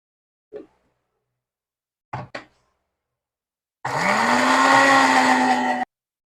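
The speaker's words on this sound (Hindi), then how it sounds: "इसके अंदर चीनी ऐड करेंगे और इसे ग्राइंड कर लेंगे।" An electric kitchen grinder whirs loudly for about two seconds, grinding sugar into a sweet chutney, its motor pitch rising as it spins up, after a few soft taps and clicks from handling the jar.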